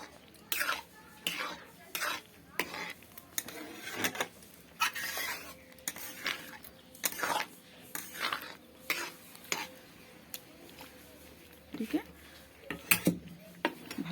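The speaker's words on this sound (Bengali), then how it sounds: "আবারও এটিকে ভালোভাবে নেড়ে নেব এটিকে ভালোভাবে মিক্স করে নেবো" Homemade tomato sauce with vinegar added is stirred in a pot, a repeated rhythmic scrape and clink of a spoon against the pot rim and base, close and clear, with a faint hum beneath.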